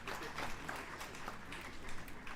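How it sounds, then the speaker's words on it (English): A university convocation lecture audience applauds to welcome a guest, with dense, continuous clapping that sounds quiet and distant throughout, mixed with faint crowd murmur. "Help me to welcome him with a thunderous round of applause."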